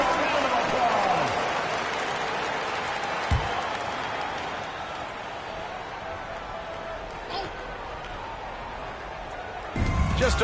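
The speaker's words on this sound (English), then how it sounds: "Give yourself a round of applause." Crowd applause fills a basketball arena, a broad, sustained wash of clapping and crowd noise with a few sharp thumps, while an announcer's voice carries faintly underneath.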